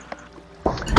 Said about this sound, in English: I suck at trying to stop water